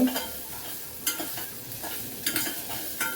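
Onion stirred in hot oil in a home kitchen until it browns, a steady close sizzle with a few sharp scraping stirs spaced about a second apart, no voices.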